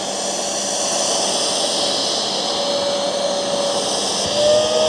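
A BISSELL HydroSteam Pet carpet cleaner 3432 drones with a steady whining motor and suction hiss, its tone shifting slightly as the tank fills, close and continuous with no voices.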